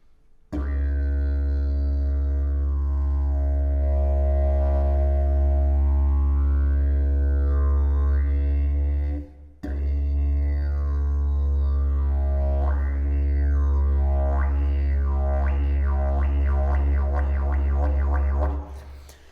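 A steady didgeridoo drone holds low while its overtones sweep slowly up and down as the tongue arches, then wobble faster and faster after a brief breath break.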